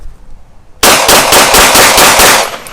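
A TARA Aerospace TM-9X pistol fires a rapid string of about ten shots on an outdoor range. The reports are close, loud and evenly spaced, following a moment of quiet.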